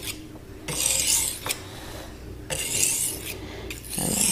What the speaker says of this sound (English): I'm sure there's a lot of different ways that you can sharpen a knife.